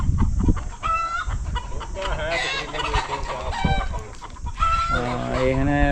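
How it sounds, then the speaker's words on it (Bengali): Several hens cluck and squawk close by in a busy, overlapping chorus on a country-chicken farm in hilly Saudi Arabia, with a rooster's crow rising near the end. "আর মুরগা আর মুরগি আছে অনেক"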